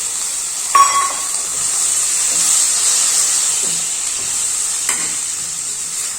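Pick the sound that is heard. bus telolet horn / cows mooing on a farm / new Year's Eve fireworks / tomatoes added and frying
tomatoes added and frying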